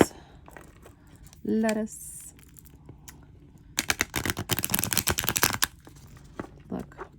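An oracle card deck is shuffled by hand. A quick, dense riffling burst of card flicks comes mid-stretch and is followed by a few lighter snaps, with a short voice heard earlier.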